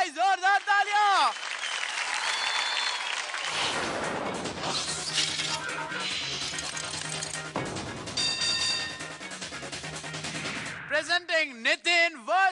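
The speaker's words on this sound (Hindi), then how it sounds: "कम ऑन गाइस, जोरदार तालियां।" Loud audience applause at a children's singing competition show on stage, a sustained roar of clapping with bright whistling tones before and after it.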